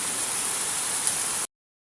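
Rain pours steadily on a Liberica coffee farm during a downpour that has lasted about an hour, a dense, even hiss for about a second and a half before cutting to silence.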